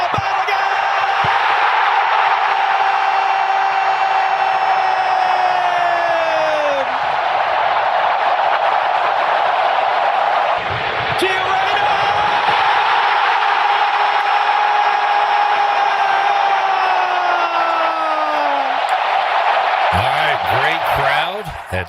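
A large crowd of soccer fans roars loudly at SoFi Stadium during a USA match against Paraguay, a dense, sustained wall of cheering and whistling with rising and falling whoops, continuous and close throughout.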